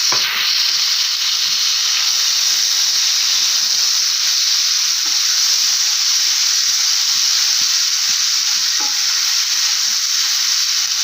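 Ginger garlic paste with cumin sizzles steadily in hot oil in a pan, a continuous loud frying hiss with scattered crackles and no voices.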